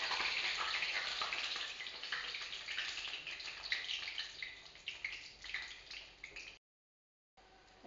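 Raw banana fritters fry in hot oil in a wok, giving a steady, bright sizzle that crackles on for several seconds before cutting out briefly, with no one talking.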